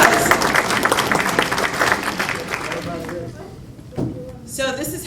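Audience at a Latino Leadership Network meeting applauding, a full burst of clapping that fades out after about three seconds, followed by a voice and brief murmuring.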